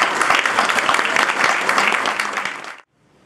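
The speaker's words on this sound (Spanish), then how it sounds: "vamos a recibir con un fuerte aplauso a nuestro director general, el señor Sabino García" Audience applause greeting the director general as he steps up to open a corporate event: dense, steady clapping from a sizeable crowd, close and loud, running nearly three seconds before cutting off abruptly into silence.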